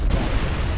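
Continuous heavy booming rumble of cannon blasts in the video game Halo: Combat Evolved, dense low-end explosions filling the whole stretch without pause.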